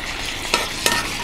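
Sauce bubbling in a pan for a few seconds, a steady close sizzle broken by two quick utensil taps, with no talk.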